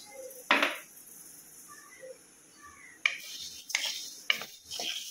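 Spice masala is stirred as it roasts in a pan, a few sharp clanks and scrapes of a utensil against metal over a faint background hiss.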